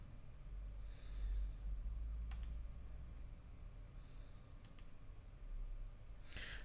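Sparse mouse clicks while folders and tracks are operated in Cubase: three short, crisp click pairs spaced a couple of seconds apart over a low, steady room hum.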